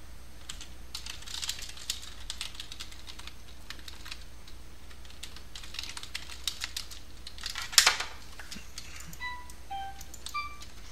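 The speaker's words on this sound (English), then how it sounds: "you can probably hear the keys" Computer keyboard keys clatter in quick irregular bursts, close and fairly soft, with a few faint tonal game sounds near the end.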